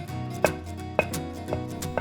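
Chopped tali kacu leaves are pounded to a fine paste in a mortar. Four steady, close thumps land about every half second over a low droning background.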